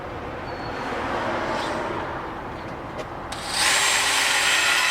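A low-speed drill fitted with a high-speed carbide bit notches metal on a turbo manifold, a steady grinding whir and rasp that grows louder and brighter partway through as the bit bites harder, with no talk.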